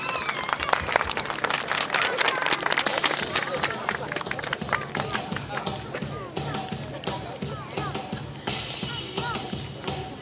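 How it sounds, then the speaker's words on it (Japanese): Applause from a crowd at a live event in Himeji, dense clapping that starts loud and gradually thins into scattered claps and murmuring chatter. "大きな拍手をお願いいたします。"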